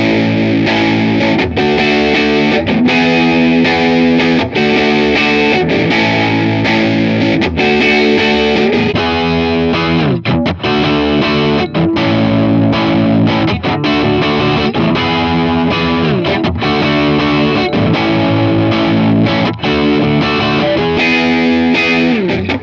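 A cranked Vox AC30 tube amp carries a heavily distorted electric guitar, playing loud, sustained, broken-up chords and riffs continuously with no talking.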